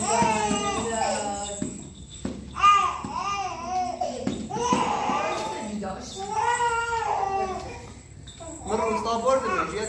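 A cat meows repeatedly in drawn-out, wailing cries, loud and close, overlapping with people talking throughout.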